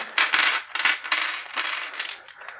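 Plastic board game dice from Descent: Journeys in the Dark Second Edition tumble out of a bag onto a table in several quick clattering bursts, rattling and knocking together close up for a couple of seconds.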